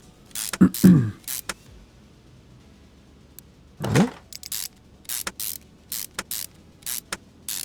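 Short mechanical clicks and whirring bursts from screws being fitted on car covers in Car Mechanic Simulator 2021, working on a Nissan Fairlady, come in irregular quick clusters separated by quiet gaps.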